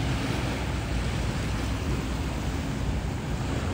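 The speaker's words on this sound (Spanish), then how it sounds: "ese oleaje viene ahorita, es por el barco que venía" Sea waves churned up by a passing boat's wake roll in a steady, dense wash of surf, close and fairly loud with constant wind noise and no voices.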